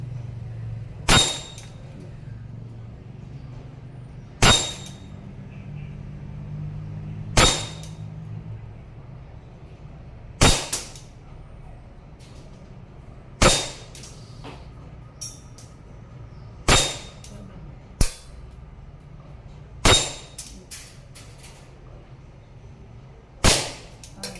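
Sharp, isolated shots from a WE M92 Beretta airsoft pistol, about ten cracks spaced a few seconds apart, each a crisp snap over a quiet background, with no talking.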